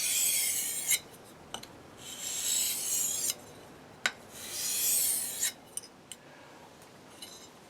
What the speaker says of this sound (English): we're now finished up with 1000 grit